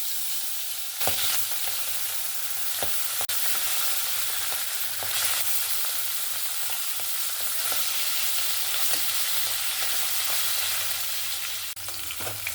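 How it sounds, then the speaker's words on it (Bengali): Fish sizzles steadily in hot oil in a wok, a constant close crackling hiss with a few sharper pops scattered throughout. "এই কড়াইয়ের মধ্যে পরিমাণ মতন তেলটা দিয়ে দেবো মাছ ভাজার জন্য।"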